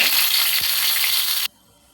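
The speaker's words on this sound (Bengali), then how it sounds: "শুকনো মরিচগুলো আগে ভেজে নিচ্ছি" Dried chilies fry in hot oil in a pan with a loud, close, crackling sizzle that stops abruptly partway through, leaving near silence.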